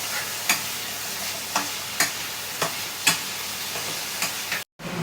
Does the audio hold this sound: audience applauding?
no